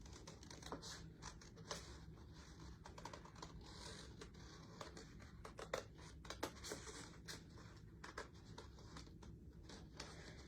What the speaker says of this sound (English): I'm going to take my scissors with adult supervision.